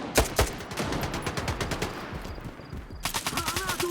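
Rapid automatic gunfire from a shooter video game, dense bursts of close shots with a brief lull before another volley; a voice talks over the firing.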